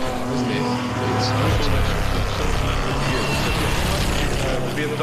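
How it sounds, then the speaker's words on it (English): Classic BMW race car engine at Castle Combe circuit, a steady loud roar with shifting engine tones and a rising, fading pass, heard under a continuous broadband rumble and crowd or commentary noise. "BMW sound fabulous"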